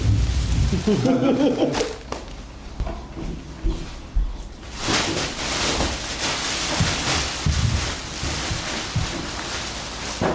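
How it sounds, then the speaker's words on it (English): Steady rain patters outside a home dining room, a broad hiss with scattered louder splashes and drips, heard close and fairly loud throughout. "A little rainy."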